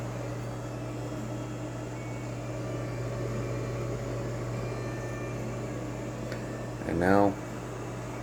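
A Ninja Combi cooker runs steadily while steaming Hamburger Helper, giving a constant mechanical hum and whir with a brief louder rising whine near the end, under a few spoken words.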